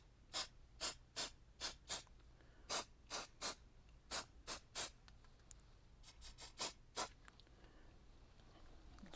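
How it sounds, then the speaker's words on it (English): Mold release agent sprays from an aerosol can onto a mold for scale car casting: a quick series of short, sharp hissing bursts, some in rapid pairs, fairly close. "So let us get going with spraying release agent."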